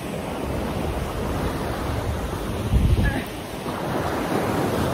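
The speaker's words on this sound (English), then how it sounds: "the waves are really waving" Ocean waves rolling in under heavy wind buffeting the microphone, a continuous broadband wash with one louder surge crashing near the middle.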